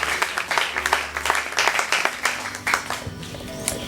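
A church congregation at a French-language service claps together for about four seconds, a dense, steady patter of many hands that swells and dips slightly, with no talking over it.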